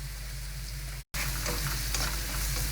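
Red onion going into hot oil with ginger and garlic for chicken fried rice, a steady close sizzle that cuts out for a moment and then returns louder and denser.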